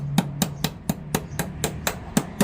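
Pliers tap on an Allen key to drive out a clutch line pin on a 1996 Ford Ranger, ten sharp metallic clicks in a steady rhythm about four per second, close, over a low hum.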